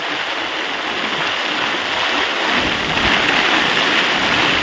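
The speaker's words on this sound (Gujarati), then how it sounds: "મુસળધાર વરસાદ ચાલુ થઈ ગયો છે" A heavy, wind-driven monsoon downpour near Botad roars as a loud, steady wash of dense rain noise that swells slightly toward the end, with no talk.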